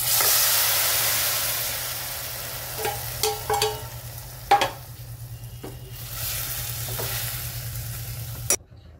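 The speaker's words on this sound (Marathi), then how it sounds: "आता आपण शिजलेली चवळी टाकून देऊ याच्यामध्ये।" Cooked cowpeas go into a pan of fried green chili paste with turmeric. A steady, moderate sizzle and hiss carries on throughout, with a few sharp stirring clicks and knocks from a utensil against the pan and no talking.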